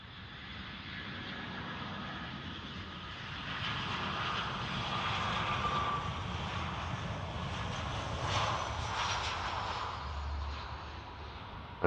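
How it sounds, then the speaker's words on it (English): A jet airliner arriving at Dublin Airport on a flight from Hamburg, its engine roar steady and fairly loud throughout, swelling slightly in the middle and holding as a broad continuous rumble with no talk. "This aircraft in from Hamburg left about an hour and 50 minutes ago"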